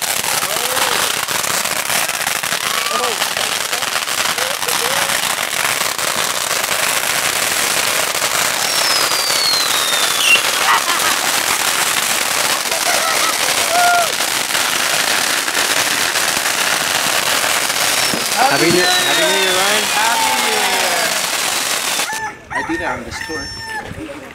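A dense, continuous barrage of New Year's firecrackers and fireworks crackles loudly for over twenty seconds during a midnight finale in Hawaii, with roosters crowing through the din and voices faintly underneath.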